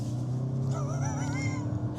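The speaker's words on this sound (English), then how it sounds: "Driving the Toyota Camry." A 2025 Toyota Camry being driven, steady low engine and road hum inside the cabin, with a faint rising whine in the middle.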